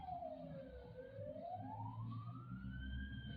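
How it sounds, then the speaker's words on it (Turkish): Fire engine sirens wail in the distance during a house fire in Sultanbeyli, a faint rising and falling tone that slowly climbs in pitch over steady background noise. "itfaiye sesleri yaklaşmaya başladı"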